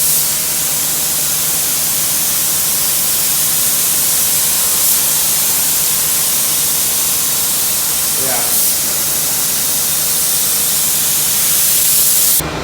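A spray gun lays primer onto a masked-off Honda Civic EK, giving a loud, continuous hiss that runs steadily for the whole stretch with only a brief break.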